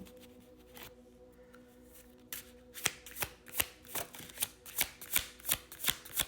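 Tarot cards are shuffled close by in a quiet room. A few soft riffles give way to a steady run of crisp, evenly spaced card snaps, roughly two per second, with no voices.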